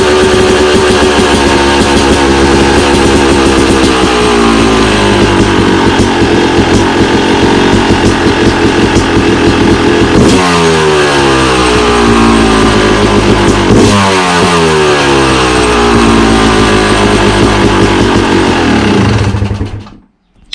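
A motorcycle fitted with an FMF Turbinecore 2 exhaust roars loudly up close, idling with a rough rumble and repeatedly revving up and dropping back before cutting off abruptly.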